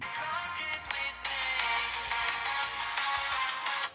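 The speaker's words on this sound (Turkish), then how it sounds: "Bir müzik daha açacağım." Music plays through the built-in speaker of an OMIX O1 Neo smartphone, a steady, bright and fairly loud stream of sound that runs throughout with no talking over it.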